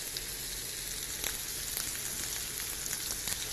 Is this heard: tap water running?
no